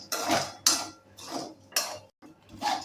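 Chickpeas being stirred and roasted in hot salt in a pan with a slotted spoon: five separate scraping, rattling bursts with short pauses between them, close and moderately loud.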